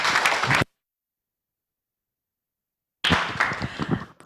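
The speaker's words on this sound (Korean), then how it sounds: "큰 박수로 환영해 주시기 바랍니다." A conference audience at a basic income congress session on youth politics applauds to welcome a speaker: a short burst of clapping, then a long silence, then a second, louder burst of applause.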